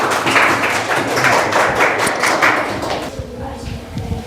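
Loud classroom clapping from students rewarding a correct answer in a general knowledge quiz, a dense burst of hand claps lasting about three seconds before fading into quieter room sound.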